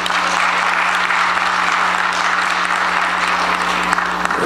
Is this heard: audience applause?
yes